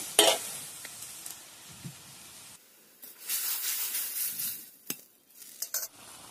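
A spice masala cooks in a pan with water added, giving intermittent soft sizzling and stirring scrapes with a few sharp utensil knocks against the pan, close by and fairly quiet, with brief pauses between bursts.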